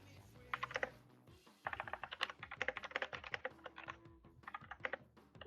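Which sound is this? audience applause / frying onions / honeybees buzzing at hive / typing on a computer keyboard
typing on a computer keyboard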